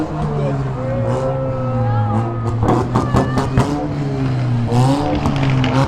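A Nissan S14 with a 2JZ engine sits at a 2-step competition, revving loud and close with sustained tonal engine notes and rising and falling pitch. People talk nearby.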